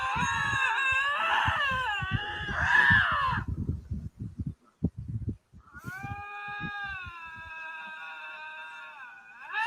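A lynx screams in recorded playback: two long, wavering, harmonic wails separated by a pause filled with scattered knocks and clicks. The calls are loud and shrill, with no voices over them.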